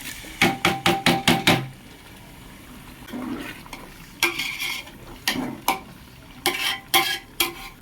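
Onion paste goes into a cooking pot and is stirred, a quick run of sharp metal scraping clacks followed by softer scrapes and more bursts of stirring, close and clear, with no talking.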